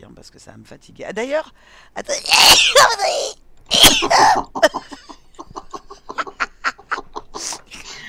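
A sneeze bursts out during French conversation while playing Minecraft Beta 1.3, with a second sharp burst soon after. Both cut through steady nearby talk.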